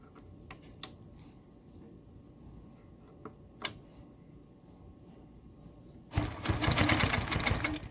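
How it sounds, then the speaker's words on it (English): A Handiquilter Fusion longarm quilting machine starts stitching red yarn in a couching pass, a dense rapid mechanical chatter that rises loudly after a quiet stretch with a few isolated clicks. "and I'm just going to start sewing."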